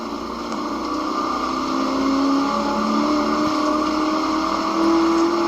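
A Lingenfelter Camaro Z28 on the race track at Inde Motorsports Ranch, its engine droning steadily and loud throughout with a rising, sustained tone as it pulls through a long corner, no talk.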